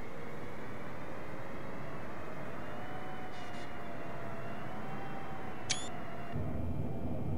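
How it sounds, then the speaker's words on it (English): A Boeing 747 airliner on approach in Microsoft Flight Simulator, a steady loud engine drone and broadband rushing hum throughout, with a faint whine and a brief high chirp near the end, no voices. "It's kind of weird flying a 747"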